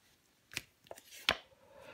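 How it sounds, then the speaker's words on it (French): Tarot cards are handled and laid down on a table, three brief soft slaps and rustles spaced over two seconds in a quiet room, with no talk. "On va recouvrir de toute façon les cartes."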